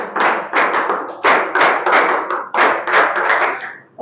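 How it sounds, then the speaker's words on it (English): A classroom of students claps for a classmate in uneven rhythmic bursts, loud and close, with brief pauses between rounds and no talking. "Clap for her."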